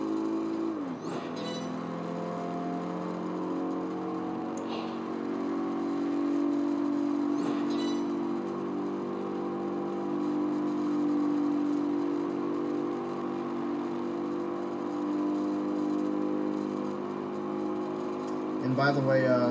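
Race cars in Project Gotham Racing 4, a TRD and an AMG running the full Nürburgring circuit, hold a steady, loud engine drone throughout, broken by a few brief clicks and a slight swell near the end.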